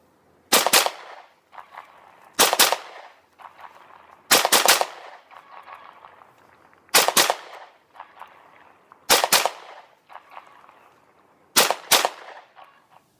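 Rapid pistol shots from a Smith & Wesson M&P duty pistol during defensive shooting practice: six quick bursts of two or three sharp cracks each, spaced about two seconds apart, loud and close with brief ringing between strings.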